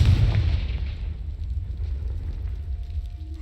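A Confringo blasting spell bursts in Hogwarts Legacy, a loud, close boom at the start with deep rumble that slowly decays into a low, lingering ambient roar.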